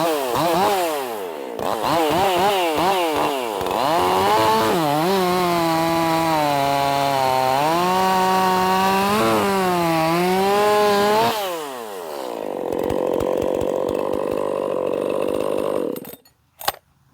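A ported Echo CS 4310SX chainsaw revs up in short blips, then bites into little pieces of wood with a loud, wavering, strained whine before easing back to a burbling idle and a final clunk; close by, with no voices.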